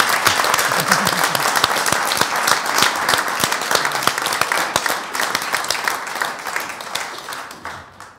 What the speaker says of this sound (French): Merci, on peut vous applaudir, bravo.